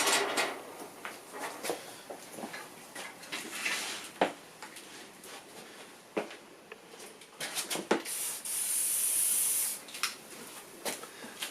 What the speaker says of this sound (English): So maybe some WD-40 lubricant would be a good idea.